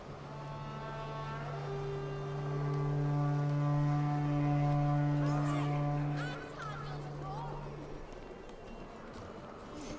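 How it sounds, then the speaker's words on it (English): A long, steady horn blast starts a race in The Witcher 3, sounding as a deep, droning tone for about seven seconds under a faint background bed before cutting off. "You'll start when I sound the horn."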